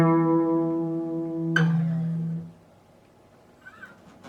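A sustained electric guitar note with vibrato from a song verse, held steadily for a couple of seconds before sliding down and fading out, played alone and up close.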